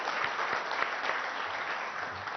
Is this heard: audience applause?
yes